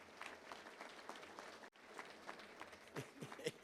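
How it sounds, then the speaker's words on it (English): Faint, distant applause from a crowd at a Little Rock Touchdown Club meeting, soft and continuous with a brief dropout in the middle and a few louder claps near the end. "Let's give him a round of applause right there."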